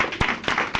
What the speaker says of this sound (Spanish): Aplauso al Señor, aplauso a la vida.